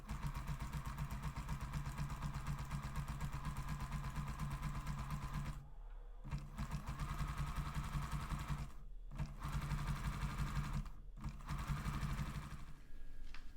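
A sewing machine zigzag-stitches gathered lace onto fabric in an heirloom sewing project, a fast, steady mechanical whirring clatter close by, interrupted by three brief stops before the stitching resumes.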